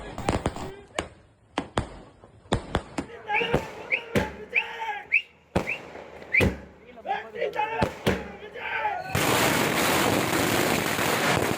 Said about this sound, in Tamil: பட்டாசுகள் வெடித்து ஆரவாரம்.